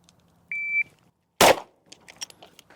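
A single sharp handgun shot fired through a dot sight at shooting practice, loud and close, cracking out after a short electronic beep, followed by faint rustling and handling noises.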